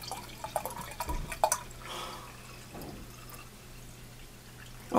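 Home-brewed beer, three or four years old, is poured from a bottle, making a faint, steady splash with scattered drips and small bubbling sounds.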